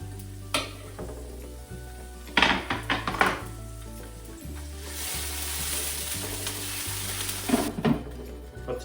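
Ginger and garlic sizzle and fry steadily in a pan for peach barbecue sauce, with a few clinks and stirring knocks of a utensil against the pan over the continuous hiss.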